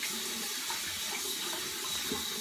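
Tap water runs steadily into a bathroom sink as shaved hair is rinsed out, a continuous close splashing hiss with no talk.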